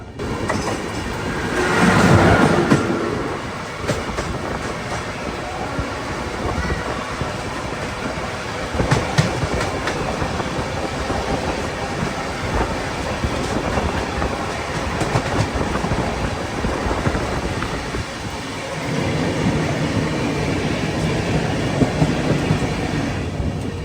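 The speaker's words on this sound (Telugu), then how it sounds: "పక్క ట్రాక్లో ఏదో ట్రైన్ వస్తుంది" A train rushes past on the adjacent track, heard from aboard the Chennai Central to Delhi Duronto Express: a loud, sustained rumble with rhythmic wheel clatter throughout, no voices.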